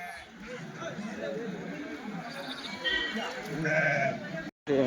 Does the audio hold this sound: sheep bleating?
yes